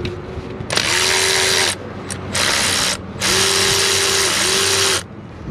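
Ratcheting bursts from a power tool or ratchet backing out 10 mm bracket bolts on a 6.7 Cummins diesel engine, three loud close runs of whirring with brief pauses between them.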